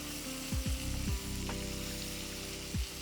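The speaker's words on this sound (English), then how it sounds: "Saute them well. About 1 big tablespoon of ginger garlic." Ginger and garlic sauté in oil with cinnamon sticks for a vegan dal makhani, a steady close sizzle broken by a few brief spoon scrapes; no talking.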